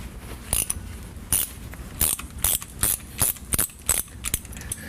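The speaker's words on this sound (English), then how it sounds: "Using your 1/2-inch socket, remove all the bolts around the rear differential cover except for this one at the very top." Ratchet with a 1/2-inch socket backing out rear differential cover bolts on a Ford F-350, heard as a series of sharp, close metallic clicks and clacks in irregular bursts with quiet gaps between.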